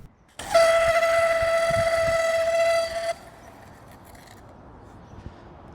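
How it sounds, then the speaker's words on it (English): An inline skate heel brake scrapes with a shrill, steady squeal for about three seconds, loud and close, then cuts off, leaving quiet background noise. "the very worst thing about the heel stop is the noise"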